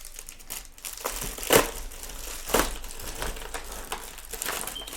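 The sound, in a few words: boxing knife cutting open a package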